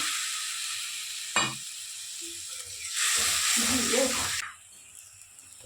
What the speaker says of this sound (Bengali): কালো জিরে ফোড়ন দিলাম দিয়ে আদা জিরে লঙ্কা বাটা ধনে বাটা দিয়ে মশলাটা কষে নেব